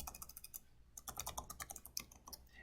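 Quick, light keystrokes on a computer keyboard while entering Java code, irregular bursts of soft clicks close to the microphone, quiet and alone.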